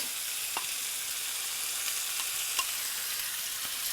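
Onions frying in a pan for Neapolitan stuffed peppers, a steady close hiss of sizzling oil with faint pops and crackles throughout.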